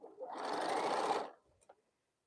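A sewing machine stitching a scrap quilt runs in one steady, close whirring burst of just over a second, then stops, followed by a couple of faint clicks.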